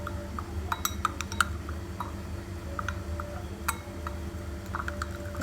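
A spoon mixes achar gosht masala into lemon juice in a bowl, giving light, irregular clinks and taps over a steady low background hum, close by.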